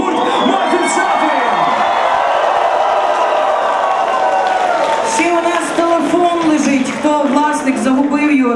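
A concert crowd at Atlas in Kyiv cheers and whoops for the band, loud and continuous. A host talks over the noise, with scattered clapping in the mix.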